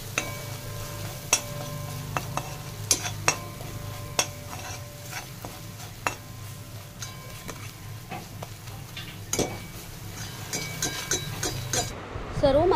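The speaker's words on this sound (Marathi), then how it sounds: "मसाले सुद्धा आपल्याला तेलावर छान असे परतून घ्यायचे आहे स्लो गॅसवरच" Spices and onions frying gently in oil over low heat while kaleji masala is being made, a steady soft sizzle with frequent light clinks and taps of a stirring spoon against the pan throughout.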